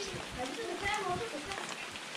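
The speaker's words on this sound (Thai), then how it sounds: "โอ้บรรยากาศฝนตกตอนเช้าๆประมาณ7 โมงตอนนี้เนาะ" Early-morning rain at a rural farm home, around seven o'clock, makes a steady, close hiss throughout while someone talks over it.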